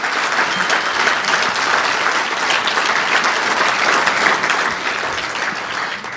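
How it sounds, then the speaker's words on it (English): Sustained, loud applause from an awards-event crowd honoring drivers of the JEGS All-Star drag race series, a steady wash of many hands clapping at an even level throughout with no one speaking over it. "How about a round of applause for all of our drivers in the JEGS All-Star race?"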